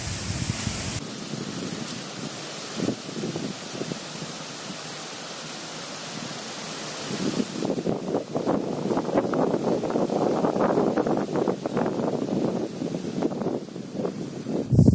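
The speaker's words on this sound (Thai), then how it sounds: "ลมแรงมากๆนะจ้า" Strong wind blowing outdoors, a constant rushing roar buffeting the microphone that grows rougher and louder over the second half.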